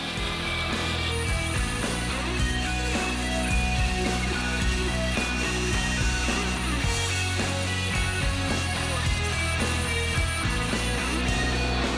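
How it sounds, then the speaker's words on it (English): Bandsaw cutting guitar body material, a loud continuous mechanical whir and rattle of blade and motor throughout, with no speech. "I remove the bulk of the material with a bandsaw."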